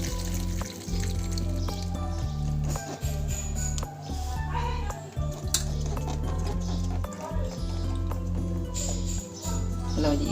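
Cooked macaroni pasta drained through a strainer in a home kitchen, with water pouring and splashing alongside metal clinks and clatter of a pot and utensils, close and steady.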